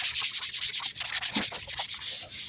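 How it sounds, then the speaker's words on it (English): Sandpaper rubbing back and forth over a wooden board, a steady rhythmic scratchy hiss with quick strokes, close and fairly quiet, no voices. "We're going to just try to sand that out."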